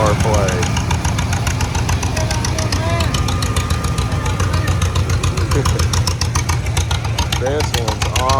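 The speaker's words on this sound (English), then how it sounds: "This green John Deere sounds like some of the cars yesterday at the muscle car place." A green John Deere tractor at an outdoor tractor show in Goldsboro, North Carolina, runs with a loud, deep, lumpy rumble and a rapid, even firing pulse, heard close. Voices talk faintly underneath.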